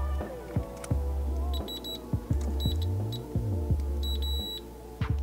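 Several short electronic beeps from a multimeter continuity test on an iPhone 6S backlight circuit sound in bursts over a steady hum, with occasional clicks between them.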